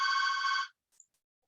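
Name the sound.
telephone ringing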